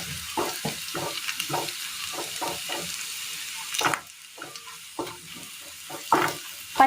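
Ground spices such as coriander powder, chicken masala and garam masala frying in oil in a pan for a Kerala curry, with a steady soft sizzle broken by repeated stirring scrapes and clinks close by, no talk.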